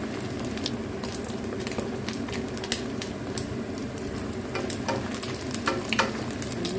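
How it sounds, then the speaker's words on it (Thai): Small fish deep-frying in oil, a dense, constant sizzle full of fast crackling pops, close and loud. "นำปลาตัวเล็กตัวน้อยมาทอดให้พี่น้องเบิ้งน้ค่ะ"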